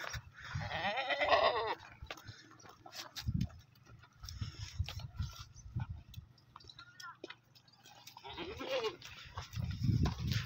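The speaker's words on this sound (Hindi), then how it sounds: "माशाल्लाह बकरी तो बहुत प्यारी मक्की चीनी बकरी है।" Makhi Cheeni goat bleating at a livestock market in Faisalabad ahead of Qurbani, several wavering bleats at the start and end, with market noise and people talking in between.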